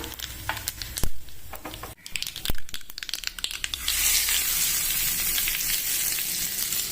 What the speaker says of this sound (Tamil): அடுப்பில் தாளிக்கிற கரண்டி வச்சுட்டு எண்ணெய் போட்டிருக்கேன். கடுகு உளுத்தம் பருப்பு தாளிச்சிட்டோம்னா